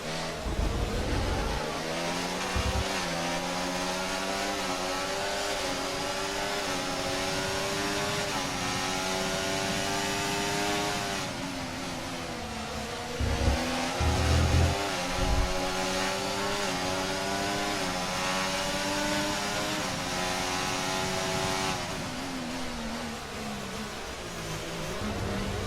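Formula 1 race car engines in the video game F1 24 at the Canadian Grand Prix: a continuous high-pitched engine whine with rising and falling revs and gear changes, steady and loud throughout, with a commentator talking over it.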